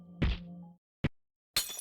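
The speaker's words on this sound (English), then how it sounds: "I heard the sound of shattering glass and the impact stopped." Glass shattering in the Chaos;Child visual novel, heard as three separate sharp impacts: a ringing crash with a tonal tail, a short hard knock, then a bright burst of breaking fragments, with silence between them.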